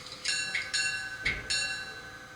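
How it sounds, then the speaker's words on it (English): Bowser HO scale GMD SD40-2 model locomotive sound-unit bell ringing in four evenly spaced metallic dings with a soft click, close and clear over faint hiss. "Very nice sounding bell."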